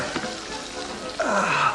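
Lamb cutlets frying briefly in a hot pan, a steady close sizzle that swells louder toward the end as the meat is handled.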